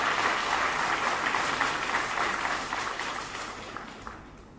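An audience at a community event in a hall applauds, a dense, loud wash of clapping from many hands that holds steady and then gradually fades toward the end.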